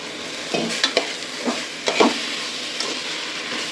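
Moong dal and rice being fried in a pan for South Indian pongal, a soft continuous sizzle with a few scattered spatula scrapes and knocks, close and clear, no voices.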